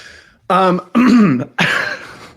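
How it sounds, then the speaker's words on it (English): Three loud, rough throat-clearing bursts in quick succession, close to the mic, separated by short pauses. "He kept clearing his throat."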